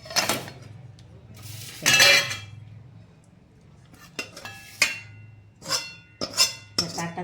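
A thick sweet mixture for a homemade rasbhari mithai is scraped from a pan onto a metal plate, giving several separate clanks and scrapes of utensils against metal with quiet gaps between them.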